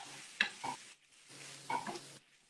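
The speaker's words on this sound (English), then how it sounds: "So start sauteing." Ingredients for a lentil and quinoa cazuela being sautéed in a pan: two soft stretches of stirring and faint sizzling with a few small clinks of utensil on pan, quiet and close, with no voices.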